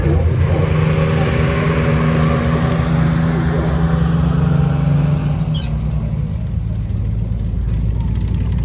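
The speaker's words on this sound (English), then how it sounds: "There's something called the M5 of the little light tank behind there that is driving around." An M5 light tank drives around at a military show in Capel, England, its loud, steady engine rumble and low mechanical drone continuous and close, with outdoor crowd noise in the background.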